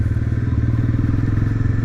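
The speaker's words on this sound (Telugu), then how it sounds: "ఎగ్జాస్ట్ యొక్క సౌండ్ అయితే చాలా బాగా" A Bajaj Pulsar NS400Z 400cc motorcycle being ridden in first gear gives a loud, close, steady exhaust rumble with a fast pulsing beat that carries on without a break and without any talking.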